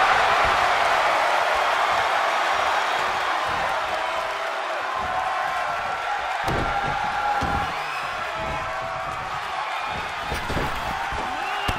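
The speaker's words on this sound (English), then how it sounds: "The WWE Universe is showing their appreciation for the action they're seeing." Virtual arena crowd in WWE 2K22 on PS5 roaring and cheering steadily throughout, a dense loud wash of voices with occasional sharp impacts from the wrestling action during a Rey Mysterio and Kevin Owens match.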